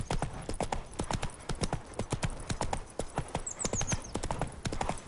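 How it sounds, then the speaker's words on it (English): Rapid, steady hoofbeats of a horse galloping in The Witcher 3, loud and close, with a brief whinny-like squeal partway through. "Not so fast, Roach"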